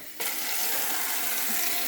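Water streams steadily from a tap into a jug in a cottage garden setting, a constant bright splashing rush that starts abruptly and continues for nearly two seconds.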